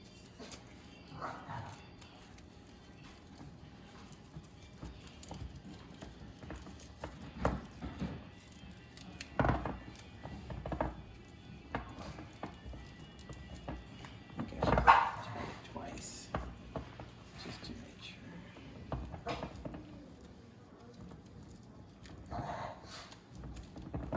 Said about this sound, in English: now the doggies are barking